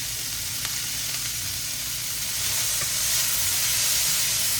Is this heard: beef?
yes